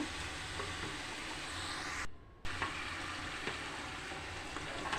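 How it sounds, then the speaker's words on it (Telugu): Bondas made of urad dal and maida deep frying in hot oil on a high flame, giving a steady loud sizzle and crackle that cuts out briefly, then resumes. "రెండు వైపులా బోండాన్ని బాగా వేయించుకోవాలన్నమాట"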